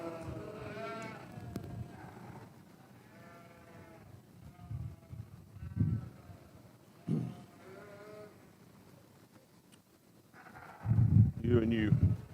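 Sheep bleat at a 4-H county sheep show, with several strong calls rising over a steady barn murmur and nearby voices talking throughout.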